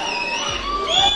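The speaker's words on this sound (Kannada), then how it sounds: "ಏನ್ ಶಿಳ್ಳೆ ಹೊಡಿಯೋದು, ಚಪ್ಪಾಳೆ ಹೊಡಿಯೋದು ನಿಲ್ತಾನೆ ಇಲ್ಲ." College audience at a stage dance performance, cheering and shouting in a continuous close crowd roar with whoops, whistling and clapping blending together.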